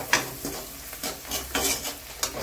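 Ginger garlic paste fries in a pan with green chillies and vegetables for a mixed sabzi, a soft sizzle under intermittent stirring scrapes, quiet and close.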